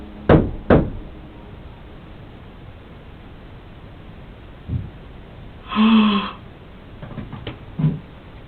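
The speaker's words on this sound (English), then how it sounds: "Did you guys hear knocking back from outside of room 5?" Knocking on a door in a haunted hotel, heard as two sharp knocks close together at the start, then scattered fainter knocks and a soft thump later, with quiet hiss between.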